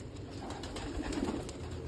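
Pigeons kept for a village pigeon-flying contest coo softly in a low, continuous burble, quiet and somewhat distant against faint background hiss.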